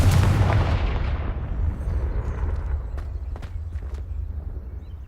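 A Confringo blasting spell goes off in the Hogwarts Legacy video game with a loud booming explosion that fades into a rumbling tail, followed by a few faint sharp ticks and crackles.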